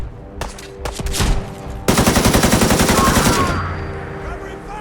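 Gunfire in the Fallout 4 video game: a few sharp single shots, then a loud sustained burst of rapid automatic fire lasting about two seconds before fading into a ringing tail.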